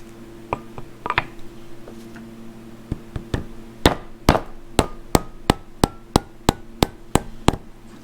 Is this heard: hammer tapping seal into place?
yes